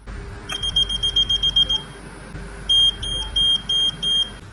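Fall detection alarm buzzer sounds in a rapid series of high electronic beeps, then after a pause in longer, separated pulses, loud and close over a low background hum.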